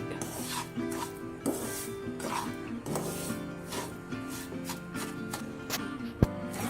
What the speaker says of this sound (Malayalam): തേങ്ങയും പഞ്ചസാരയും കൂടി നല്ലോണം ഒന്ന് മിക്സ് ആവട്ടെ നെയ്യിൽ.